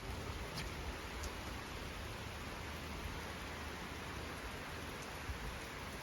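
Steady rain falling outdoors, a dense even hiss with occasional louder drops, continuous throughout and alone with no voices.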